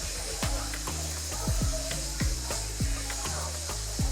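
Kapana, Namibian street meat, sizzling and frying on a hot grill, a steady crackling hiss broken by repeated scraping and stirring strokes roughly every half second, close and fairly loud.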